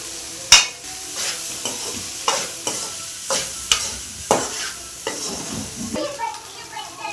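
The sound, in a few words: rice being stirred and fried for lemon rice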